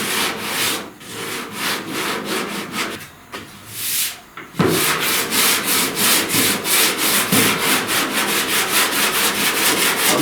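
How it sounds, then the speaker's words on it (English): Steady rhythmic strokes of hand sanding along a body crease on a 1969 Chevrolet C10 rear panel, a rough scratching back and forth, close and loud, with a short pause partway through. "I'm sanding the body crease"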